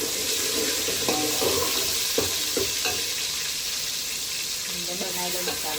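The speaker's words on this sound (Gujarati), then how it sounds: "વઘાર ચાલુ છે. ટામેટા નાખી દીધા." Tomatoes and potatoes sizzling in a pan of hot spiced tempering oil in a home kitchen preparing Gujarati tiffin food, a steady close crackle broken by a few stirring scrapes, with no talk.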